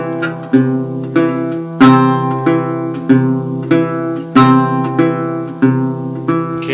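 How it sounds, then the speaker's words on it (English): Acoustic guitar fingerpicked with an alternating thumb, the middle finger pinching a treble note together with the thumb on beat one, repeating in an even four-beat pattern, close and clean. "We're going to pinch with the middle finger at the same time as we play the thumb on"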